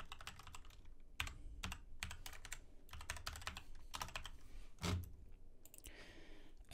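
Rapid clicking of a computer keyboard, with a steady run of close, crisp keystrokes and brief pauses between bursts, recorded during a JupyterLab session.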